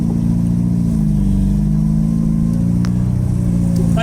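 A Premium Padmini car with a modified muffler labors and revs while driving off-road, its loud, steady low engine drone rising and falling slightly throughout.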